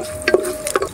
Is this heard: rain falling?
no